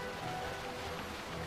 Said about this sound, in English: Ah, it's raining here.